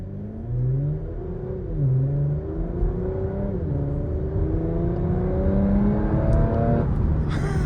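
A Porsche Macan GTS SUV in comfort mode pulls away from a standstill, its engine rising steadily through gears with audible shift dips, a loud continuous interior drone with no talking.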